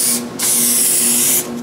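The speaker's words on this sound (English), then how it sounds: "Then I spray 2 coats of shiny clear coat." Aerosol spray can hissing shiny clear coat onto a painted wooden nutcracker, loud steady bursts alone with a brief pause near the start.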